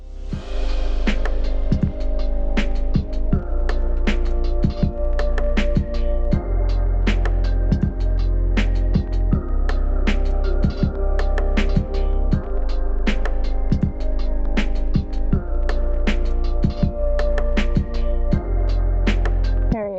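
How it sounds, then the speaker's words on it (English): A sewing machine stitches steadily around a fabric pouch held with clips, a continuous close mechanical hum with rapid rhythmic needle clicks running throughout without talk. "I'm going to stitch all the way around it."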